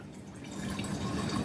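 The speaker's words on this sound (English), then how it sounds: "I'm just going to pour it in my brown bottle" Tincture poured from a 4-cup measuring jug into a cleaned, sterilized brown bottle, giving a close, steady trickle and drip of liquid that builds slightly as the pour continues, with no talking.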